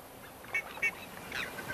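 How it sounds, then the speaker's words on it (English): A great grebe (huala) calls at dawn in a Chilean wetland, a few short honking cries, moderately near over soft ambient background. "The cry of the huala signals the dawn of a new day in the Rio Cruces wetland"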